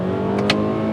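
A 2022 Toyota Camry with a four-cylinder engine hums steadily under acceleration, holding a constant drone with a brief brighter rush in the middle of the short stretch.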